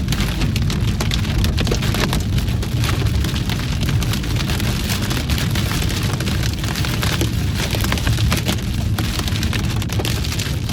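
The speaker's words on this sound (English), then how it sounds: "Large chunks of hail began to batter my vehicle once again." Large hail pounds a vehicle during an intense storm, a dense, continuous loud rattle and drumming on the body and roof with no letup, heard up close from inside with no voices.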